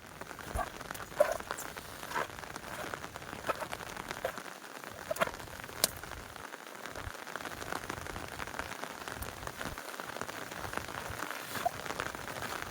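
Heavy rain falls steadily on surfaces during a flood in southern Thailand, a dense continuous hiss with scattered sharper drop impacts throughout and no voices.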